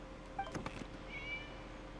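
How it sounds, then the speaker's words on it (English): A cat in Genshin Impact gives a short, clear meow against quiet background ambience. "It's a cat."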